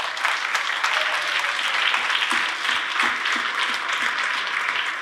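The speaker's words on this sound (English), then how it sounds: "please stand up or wave and take your well-deserved round of applause" Dense, steady applause from a luncheon audience honoring the core team and executive members, a continuous wash of many hands clapping at even loudness throughout.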